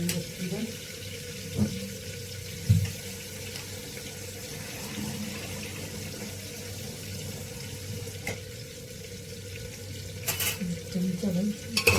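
Washed fish sizzles in a hot oil tempering in a home kitchen, a steady frying hiss with clinks of a spoon and occasional splashing, and someone talking over it.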